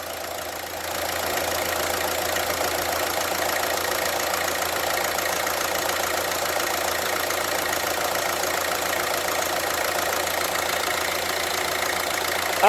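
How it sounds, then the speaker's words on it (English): A Peugeot Expert van's diesel engine idles steadily and smoothly, a continuous low rumble with no knocking, hunting or misfire and no other sounds, close by and even throughout. "Engine sounds sweet."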